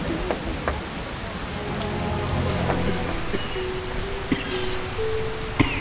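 Steady rain falls in The Witcher game, a dense continuous hiss of drops on surfaces with occasional louder splashes, while characters talk briefly over it.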